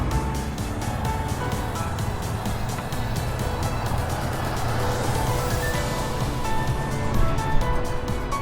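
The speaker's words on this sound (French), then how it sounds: "beaucoup de voitures." Cars on a busy commercial street, the boulevard du Charme in La Tuque. A steady, close traffic roar continues without a break, and one vehicle swells and passes near the middle.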